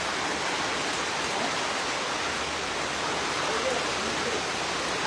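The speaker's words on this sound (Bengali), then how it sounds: "আরো বাড়তেছে বৃষ্টি।" Heavy, intensifying rain falling outdoors during a film shoot, a constant loud broadband roar without breaks, no voice heard over it.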